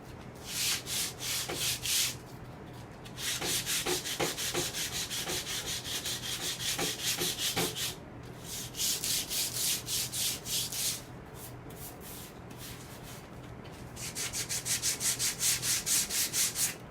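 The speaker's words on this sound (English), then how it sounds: "there's a lot of sanding involved in this." Steady rasping strokes of hand sanding on a vintage steel glider, in bursts with short pauses between, fairly close and consistent in rhythm.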